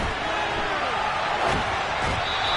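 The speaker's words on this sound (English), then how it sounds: "You can already start to hear this crowd." Stadium crowd noise in the Madden 23 football video game during a third-and-goal play, a broad continuous roar of cheering that swells slightly near the middle, with a commentator-like voice faintly underneath.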